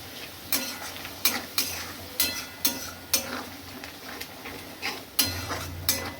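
Garlic paste masala being fried and stirred in a pan, with a soft sizzle beneath regular sharp scrapes and clinks of a spoon against the metal, close by.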